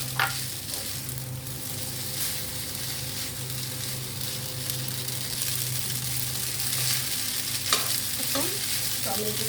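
Vegetables and pasta fry together in a pan for white sauce pasta, giving a continuous moderate sizzle with occasional scrapes and knocks from stirring, especially toward the end.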